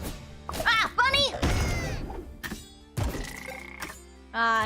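A video game frog croaks in a few short ribbed bursts, mixed with thuds and impact hits, while a person talks over the game sounds.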